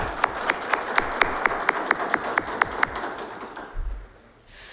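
A small group at a Waiters' Day ceremony gives a round of applause, with a few sharp, evenly spaced claps over a soft bed of clapping that fades out after about three seconds.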